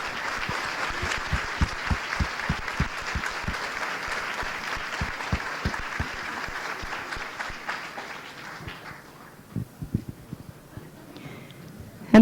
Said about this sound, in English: Let's have a round of applause for Mrs. Ball's class.